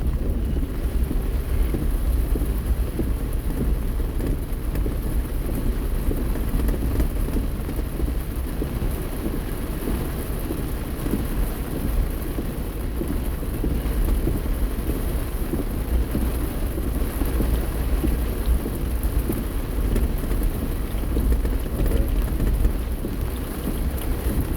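Steady heavy rain drums on a car during a drive through a park, a dense unbroken hiss with low rumbling underneath that could be distant thunder, continuous and fairly loud with no talking.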